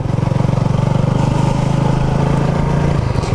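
Honda CB250RS motorcycle riding on a rough, slightly off-road track toward a puddle, its single-cylinder engine throbbing in a fast, even pulse, loud and close for the whole stretch with no voices.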